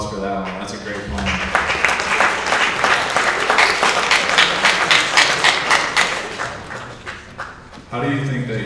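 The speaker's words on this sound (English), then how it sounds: "How about a round of applause for that one?" An audience at a high school recruiting event breaks into lively applause for a few seconds, dense clapping that swells and then tapers off, with voices speaking just before and after.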